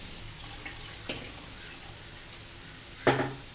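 Water poured into a pot for Punjabi-style kadhi pakora, a faint running trickle under a quiet kitchen background with a brief clatter near the end.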